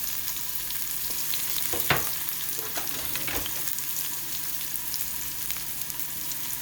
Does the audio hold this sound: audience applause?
no